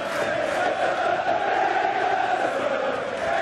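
A darts crowd at the 2014 World Darts Championship roars and chants steadily for Devon Petersen, a dense continuous wall of cheering voices at an even level throughout.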